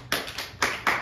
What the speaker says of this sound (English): golf clap for Carter and for Karosh